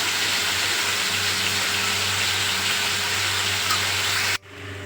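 Potatoes sautéing in spice masala give a steady, close broadband sizzle with a low hum beneath it. The sizzle runs continuously and then cuts off abruptly near the end.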